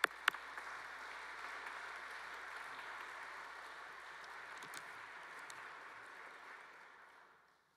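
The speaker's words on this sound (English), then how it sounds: "Let's give him a round of applause." Steady audience applause fills a ceremony hall for a speaker at Brown, soft and fairly distant, holding evenly for several seconds before fading out at the end.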